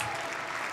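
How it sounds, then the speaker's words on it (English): Applause fills a legislative chamber, a dense, steady wash of many hands clapping at once, sustained and even throughout the short stretch with no voices standing out. "That's why they're clapping"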